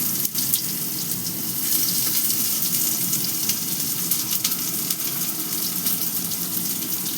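Chopped onions dropped into hot oil for a green banana curry, giving a loud, dense, continuous sizzling hiss with no pauses.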